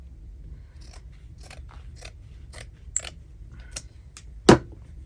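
Scissors snip repeatedly at a sewing and stitchery workspace. The close, crisp cuts come in an irregular run, with one sharper, louder snip near the end, in an otherwise quiet room.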